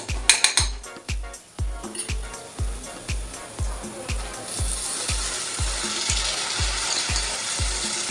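Rice and prawns hit hot oil cooked with masala, setting off a rising sizzle that builds and fills out while rapid rhythmic scraping thuds of a ladle stir the pot underneath, close and fairly loud throughout.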